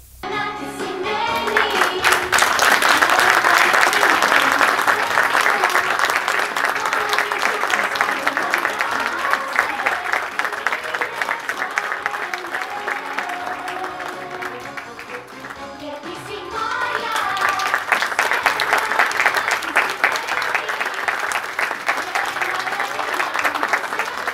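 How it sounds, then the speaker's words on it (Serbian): An audience at a theatre festival performance applauds, dense sustained clapping from a full hall that dips briefly in the middle and then swells again, loud and continuous with no talk. "Publika je nagrađivala aplauzima."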